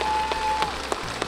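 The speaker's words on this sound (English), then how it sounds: "Give her a nice round of applause" Applause from a community gathering audience, a steady broadband patter of clapping held at an even level through the short stretch, with a few sharper individual claps standing out near the end.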